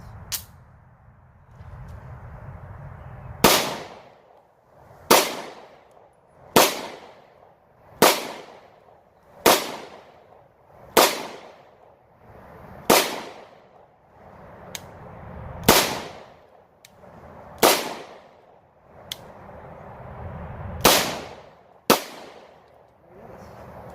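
Eleven sharp gunshots from a Taurus TH9C pistol firing Blazer rounds ring out at a steady, unhurried pace, each crack loud and close with a brief echoing tail.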